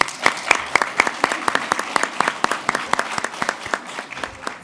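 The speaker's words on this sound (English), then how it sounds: "Let's give them a round of applause" An audience applauding interns at an event, a dense run of handclaps at even strength for several seconds, fairly close and steady without cheering.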